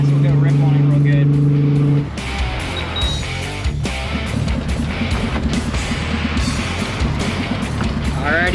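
A Volkswagen Corrado accelerates hard, its engine roaring and rising in pitch after a brief steady tone at the start. The sound is loud and close from inside the car, with people talking excitedly over it.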